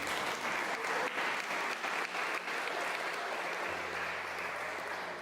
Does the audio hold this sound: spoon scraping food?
no